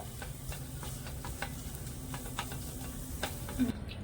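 Mawa (milk solids) being stirred in a pan over medium heat, with a spoon scraping and ticking at a steady rhythm over a low background hum, moderately quiet and close.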